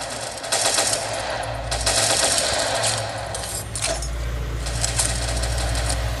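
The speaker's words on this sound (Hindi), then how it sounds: "गोली चेंज कर देंगे, शॉर्ट गन से मारेंगे।" Rapid, sustained automatic gunfire from a World War 2 video game, with a shotgun among the weapons, loud and continuous over a low engine-like drone, with no talking.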